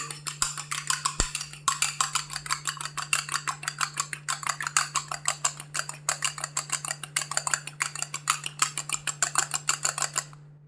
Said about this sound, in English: Egg white you need to beat it slightly